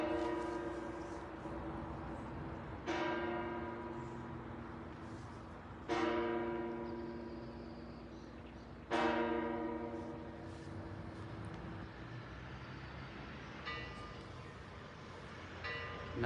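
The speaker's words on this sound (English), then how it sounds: "welcome to Tuesdays with Fran, with all of these bells going on." Church bells ringing across Lesaka, a village in Spain, with struck tones returning about every three seconds over a sustained resonant hum, heard at some distance in the open air.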